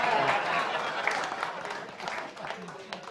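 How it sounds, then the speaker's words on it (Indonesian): A studio audience claps briefly for a football pundit on a sports talk show, a short burst of applause at moderate level. "Jadi kita berikan tepukan untuk Panji"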